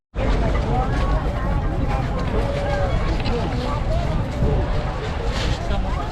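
A passenger boat ride from Bet Dwarka gives a steady, loud roar of engine, water and wind buffeting the microphone, with crowd chatter mixed in throughout.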